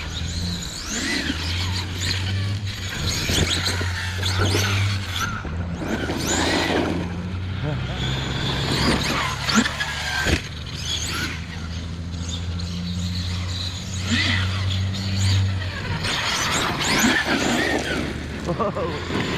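A 30° North 5T RC car motor runs steadily and loudly, with whining revs and squeals over a constant engine drone, while people talk and exclaim throughout.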